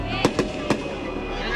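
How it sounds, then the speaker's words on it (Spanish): Fireworks and firecrackers set off in a city neighborhood, three sharp bangs in quick succession over a constant murmur of background noise and voices. "el ruido de las bombas y fuegos artificiales que se estaban lanzando"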